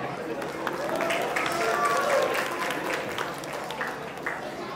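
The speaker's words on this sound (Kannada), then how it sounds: "ಚಪ್ಪಾಳೆ" An audience at a Deepavali and Kannada Rajyotsava event applauds. Dense clapping swells and then fades over a few seconds and sounds moderately distant, with some voices mixed in.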